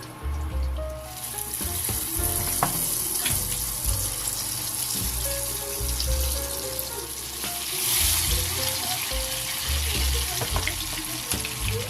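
Tortang talong, an eggplant omelette, fries in a pan with a loud, steady sizzle and crackle that swells briefly near the end, close up and without talk.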